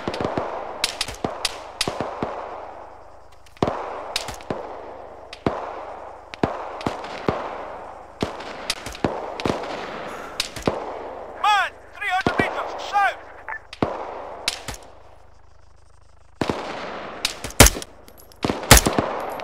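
Arma 3 combat gunfire, sharp rifle cracks and short automatic bursts at irregular intervals with echoing tails, loud and close, a voice briefly heard among the shots.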